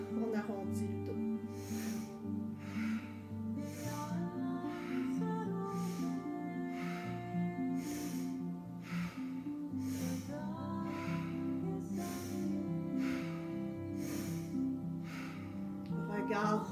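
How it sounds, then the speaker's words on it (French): Kundalini yoga breathing exercise with deep inhalations and powerful exhalations, heard as a steady series of sharp, rhythmic nasal breath bursts about once a second over soft background music. "Inspiration profonde, expiration puissante."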